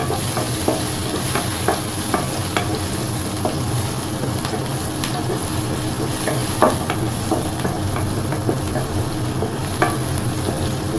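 Garlic sizzles steadily in hot oil in a pan, stirred now and then with light scraping clicks, loud and close with no talk over it.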